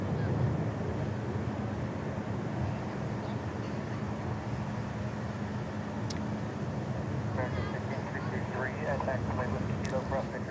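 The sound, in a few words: Turkish Airlines jet taxiing across the bridge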